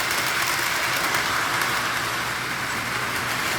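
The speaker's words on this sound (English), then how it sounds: "Man, this train wobbles." Steady rumbling roar of a freight train with tank cars rolling along tracks, continuous and fairly close, with a broad hissing wash and no voices.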